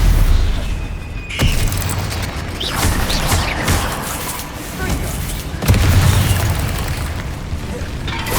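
Loud, booming blasts of Confringo and Bombarda spells from the video game Hogwarts Legacy, two heavy bursts with a crackling rumble in between, played over game sound and voice.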